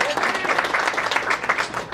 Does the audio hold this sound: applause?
yes